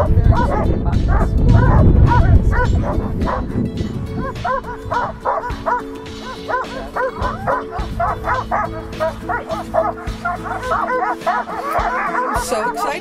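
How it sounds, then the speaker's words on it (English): Excited sled dogs before a dog sled ride on Mirror Lake, Lake Placid, a loud overlapping chorus of yips, barks and whimpers, busiest at first, then continuing in rapid bursts. "You can hear very, very happy dogs."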